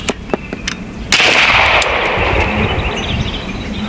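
Several shots from a Bin Tac S45 PCP air rifle emptying a high-capacity magazine: sharp, loud snaps at an uneven pace, then one bigger crack followed by a lingering hiss, with no talking.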